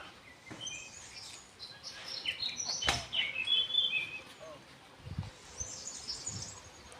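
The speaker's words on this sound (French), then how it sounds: "Écoutez les oiseaux chanter" Faint bird chirps and tweets ring out in the open air, with scattered high calls over a quiet background and a few soft bumps.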